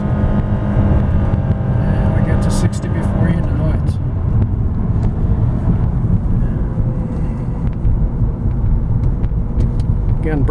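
A 2015 Honda Accord Hybrid EX-L accelerating at full throttle, heard from inside the cabin as a steady, loud engine and road roar that continues throughout, with someone talking over it.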